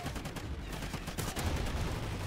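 Gunfire in the video game Call of Duty Ghosts, a dense rattle of rapid overlapping shots forming a continuous loud burst throughout.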